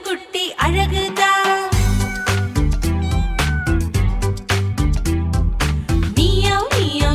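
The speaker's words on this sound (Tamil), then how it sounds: "மியாவ் மியாவ் கேக்குது, யாரு பாடி போறது?" Loud, repeated kitten meows ring out through a bouncy Tamil children's cartoon song, closely following the melody over steady backing music.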